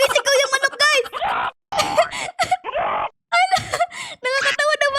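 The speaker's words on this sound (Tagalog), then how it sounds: "Sumisigaw yung manok, guys." A chicken in the Roblox game Escape Nightmare Huggy lets out repeated shrill, wavering screams in short bursts separated by brief silences.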